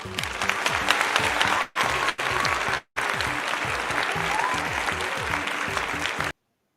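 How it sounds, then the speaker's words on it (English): A large conference audience applauds steadily to welcome a speaker to the stage, a dense, loud wash of clapping with a couple of brief breaks before it cuts off cleanly. "with a round of applause, let's welcome Mr. Kwame Obeng to the stage"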